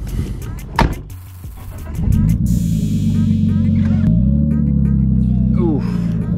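A Nissan Skyline rolls over rough off-road ground: a low engine rumble builds after a couple of seconds and holds steady and close, with knocks and scrapes from the car over it.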